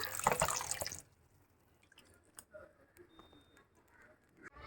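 Water from soaked soya chunks pours out in a brief splashing rush, then gives way to a few scattered drips and soft handling noises.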